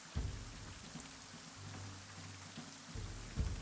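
Rain ambience playing during a tabletop role-playing game session: a steady hiss of falling rain, quiet and even, with low rumbling swells beneath it and no talking.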